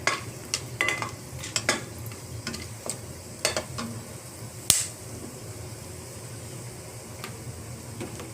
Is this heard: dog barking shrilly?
no